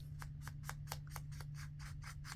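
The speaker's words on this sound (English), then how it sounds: "I'm going to go ahead and cut it through both" Scissors snip through a paper envelope in about ten quick, crisp, evenly spaced cuts. The cuts are close but quiet, over a low steady hum.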